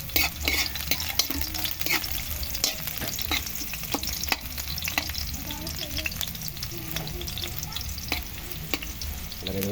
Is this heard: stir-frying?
yes